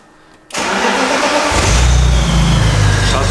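A BMW M54 325ti engine rated at 300 hp cranks and fires after a short quiet moment, then settles into a loud, steady, deepening idle that swells slightly toward a rev.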